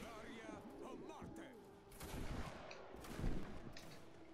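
Musket volleys in Roblox Waterloo, a line-battle game: faint, distant scattered shots and crackling fire rise in two swells beneath ongoing battle noise and some talking.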